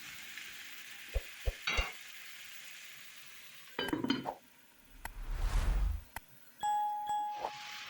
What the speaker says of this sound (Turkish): Şimdi güzelce tüm sebzelerimi de karıştırıyorum ve bu şekilde kapağını kapatarak yaklaşık 1-2 dakika kavuruyorum